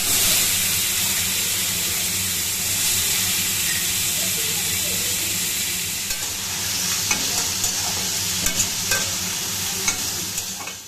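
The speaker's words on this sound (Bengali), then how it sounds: "তারপর সেই ডাঁটা আর আলুগুলো হলুদ লবণ মাখিয়ে ভেজে নিই" Stalks and potatoes coated in turmeric and salt fry in hot oil, a steady loud sizzle and hiss with occasional stirring scrapes and crackles throughout.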